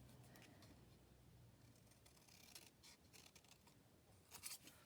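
Quiet snipping of scissors through book pages, a few soft cuts growing slightly louder toward the end, close by with no talking.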